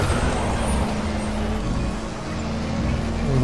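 A cartoon car engine revving in Disney Infinity's Cars play set, a loud steady droning roar that swells slightly toward the end, with no pause across the short stretch.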